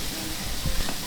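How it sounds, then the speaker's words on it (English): Onions and bell peppers stir-frying in a pan for shakshuka give a steady, close sizzle with a soft scrape of stirring near the end. "you can add in the bell peppers and continue stir frying them for about other 10 minutes until everything is nice and soft"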